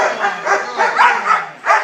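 A six-month-old protection dog barks in a quick series of five or six loud, close barks that come in a steady rhythm, with no other sound around them.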